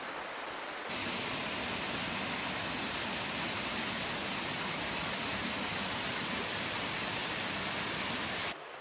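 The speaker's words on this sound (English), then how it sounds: "it's a gorgeous waterfall, isn't it?" A waterfall in Tasmania roars as a steady, broad rush of falling water, loud and unbroken throughout, with no voices over it.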